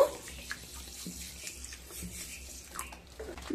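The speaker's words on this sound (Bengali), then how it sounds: "কিছুটা জল দিয়ে দেব।" Water poured onto black and yellow mustard seeds in a kitchen, a soft continuous trickle and splash with faint bubbling, close and quiet, with no talking.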